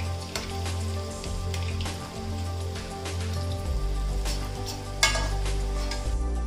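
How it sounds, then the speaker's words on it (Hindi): Mixed vegetable pakoras fry in hot oil with a steady, rain-like crackling sizzle, close by, with a low background rumble and a brief clatter near the end. "पकौड़े तैयार फ्राई हो गए"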